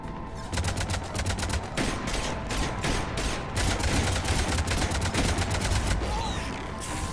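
Sustained gunfire in the video game Mass Effect 3 rattles continuously for several seconds, dense rapid shots layered into a loud fusillade with no pauses.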